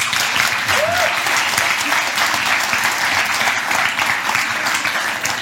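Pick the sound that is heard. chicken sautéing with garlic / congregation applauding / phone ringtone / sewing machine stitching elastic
congregation applauding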